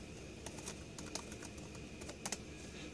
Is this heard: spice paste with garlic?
no